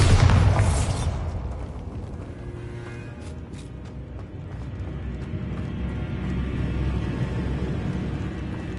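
A Bombarda blasting spell detonates in Hogwarts Legacy on PlayStation 5: a loud, booming burst at the start, followed by a long, low rumbling decay with scattered creaks and debris rattles.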